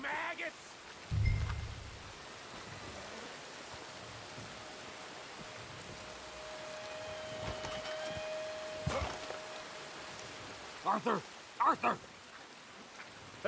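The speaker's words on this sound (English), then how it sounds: "It's fucking raining." Steady rain hisses throughout in the video game Red Dead Redemption 2, with a voice calling out briefly and a few scattered knocks and footsteps over the wet backdrop.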